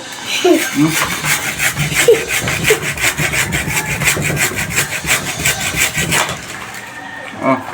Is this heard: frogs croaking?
no